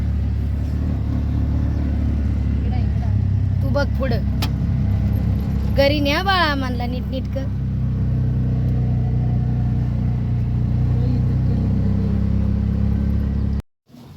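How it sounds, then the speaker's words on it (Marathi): An auto rickshaw engine drones along while driving, a steady low rumble under a woman's and others' talk, with a brief cut near the end. "आमची रिक्षा चालवतीये"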